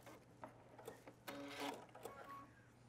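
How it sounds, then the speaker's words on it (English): A sewing machine stitches fabric along a dress seam allowance, giving faint, uneven short bursts of mechanical whirring and ticking over a low steady hum. "And then now I can stitch right up to the seam allowance on this side."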